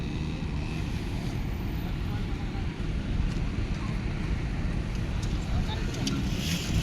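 A dune buggy engine runs at a desert riding spot off Abu Road in Jubail, Saudi Arabia, producing a continuous low, rough rumble with wind-like noise throughout, steady and fairly loud from start to finish.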